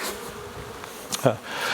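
Honeybees buzz in an opened hive, a close, steady droning hum with a brief louder swell, and a voice faintly present.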